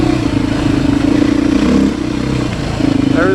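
A Beta 500 RS motorcycle engine drones steadily and close on a wet trail ride, with a throaty mid-pitched roar that dips briefly and then climbs again as the rider picks up speed.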